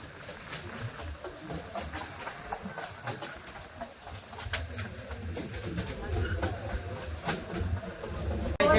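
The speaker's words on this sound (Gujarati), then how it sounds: "ટ્રેન પણ હવે ધીમી થઈ ગઈ, પેલા ફાસ્ટ ચાલતી હતી." A train rolling along near Junagadh, easing down from its earlier fast pace, gives a steady low rumble and rattle heard from inside, with faint voices in the background.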